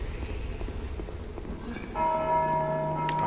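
Bell rung by enemies in the Dark Souls 2 video game, steady tonal ringing that begins partway through over a busy game background of rumbling and clattering, fairly loud and sustained to the end.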